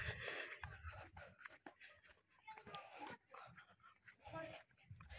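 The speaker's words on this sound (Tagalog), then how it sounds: "May ayam, may aso." A dog yips and whimpers near a village house on an overcast morning, small bursts mixed into a noisy outdoor scene with people talking throughout.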